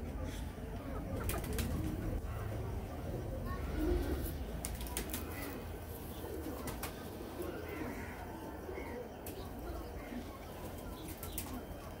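Pigeons cooing at a rooftop loft in Lahore, soft low coos repeating through a continuous bed of background noise, with faint wing flutters and chirps, while someone talks nearby.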